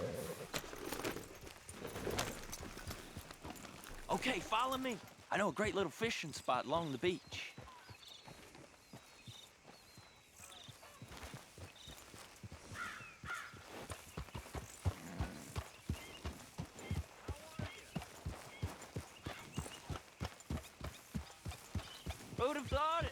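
Horse hooves clip-clop at a steady walking-to-trotting pace in the video game Red Dead Redemption 2, a regular rhythm that continues under a voice and game music.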